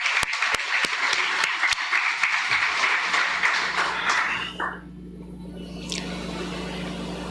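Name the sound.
applause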